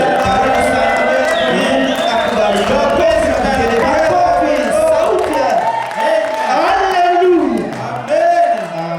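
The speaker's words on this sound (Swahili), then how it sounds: "Kwa makofi na vigelegele tunampokea mtumishi wa Mungu." Congregation at an evangelistic church service in a Swahili fellowship cheering and ululating in welcome for a preacher, a dense, loud crowd roar with rising and falling ululation waves throughout, clapping buried in the din.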